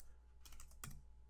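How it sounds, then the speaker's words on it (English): Soft keystrokes tap on a computer keyboard as a chart title is typed, a brief quiet cluster of clicks followed by a sharper tap. "I would type in frequency"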